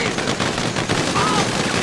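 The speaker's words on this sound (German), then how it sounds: "Alter, die schießen aus allen Rohren auf dich." Gunfire in the video game Grand Theft Auto 5 comes as a dense, continuous barrage of rapid shots, loud and close throughout.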